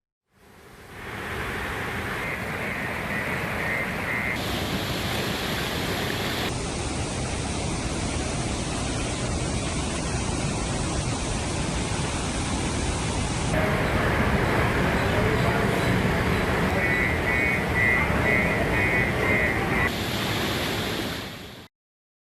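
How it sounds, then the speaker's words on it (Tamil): Hogenakkal waterfalls on the Kaveri river in heavy flood roar as a steady, loud wall of rushing water, continuous throughout with shifting broadband noise and no pauses. "ஐந்தருவி, சீனி அருவி, மெயின் அருவிகளில் தண்ணீர் ஆர்ப்பரித்து கொட்டுகிறது"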